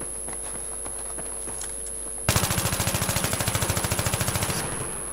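Machine gun fire in Battlefield 3 bursts in loud and close after a quieter opening, with a steady rapid stream of rounds lasting a couple of seconds before easing off.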